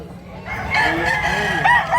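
A rooster crows once at a busy Carbon Market in Cebu, a loud, close, drawn-out call rising and wavering over a low murmur of the crowd.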